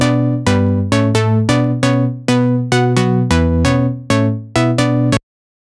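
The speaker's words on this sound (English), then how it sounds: "So drift without any effects sounds like this." Dry Ableton Drift synth plucks with no effects, a run of about twelve short bright notes in a steady rhythm, each with a sharp attack and quick decay, playing alone with no voices.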